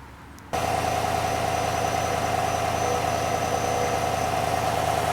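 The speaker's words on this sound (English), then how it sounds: "let's give it a quick start and see what she sounds like" A GMC Sierra AT4 pickup's 6.2-litre V8 cranks and catches after a half-second of quiet, then settles into a steady, close, rumbling idle with a constant mechanical hum, no voices over it.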